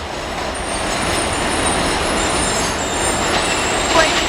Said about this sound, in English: You can't hear us because of the subway.